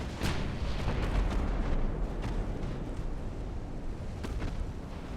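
Heavy naval guns thunder in the warship battle game Ultimate Admiral: Dreadnoughts, a dense rolling barrage of booms with a few sharper cracks standing out, loud and continuous throughout.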